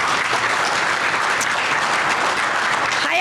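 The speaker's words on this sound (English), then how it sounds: "So start with a round of applause for yourself." A round of applause from the audience at a business event with Ontario's Minister of Finance, a loud, dense, even roar of many hands clapping at once, sustained without a break.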